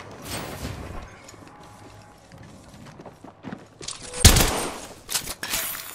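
Gunfire in Apex Legends arrives in scattered bursts, with one sharp loud crack near the middle and quicker rattling volleys after it, mixed with footsteps and mechanical clatter during a battle royale match.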